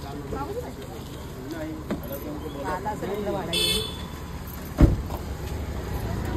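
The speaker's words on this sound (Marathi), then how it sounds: "इथे बघा गाडी आपल्या आलेली." Car pulling up on a street, engine hum under ongoing talk with a short honk or toot midway and a sharp knock near the end.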